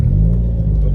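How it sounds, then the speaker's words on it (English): A vehicle pulled over at a traffic stop idles hard and rough through a defective exhaust, a steady low rumble running close and loud throughout. "can you go ahead and start your vehicle for me?"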